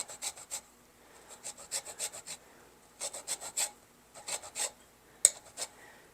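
Orange zest is rasped on a microplane zester for pancake batter, giving bursts of quick, scratchy rubbing strokes in clustered rhythmic runs with short pauses, close and fairly soft, with no talking.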